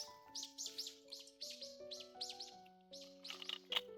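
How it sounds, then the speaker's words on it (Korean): Small birds near a garden pond give a quick run of bright, repeated chirps, close and fairly faint, in an uneven rhythm over a few seconds. "새가 놀리는 것 같아."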